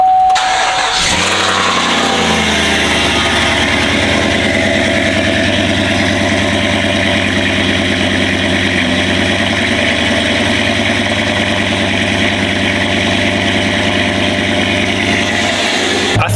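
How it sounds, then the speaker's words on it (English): A truck engine cranks briefly and catches on a cold start after sitting a week, then settles into a loud, steady, rumbling idle that continues for a long stretch close by. "A little cold start after a week."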